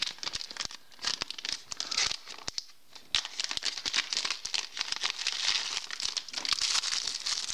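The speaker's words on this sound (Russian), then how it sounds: "В красивом полиэтиленовом пакетике." A plastic bag holding two USB chargers, one white and one black, is handled close up, giving dense, continuous crinkling and rustling with sharp crackles and no speech.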